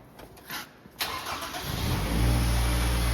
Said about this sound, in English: I'm just going to start the car up.